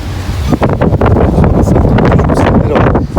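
Strong wind roars and buffets the microphone continuously, loud and rough, with gusty surges throughout.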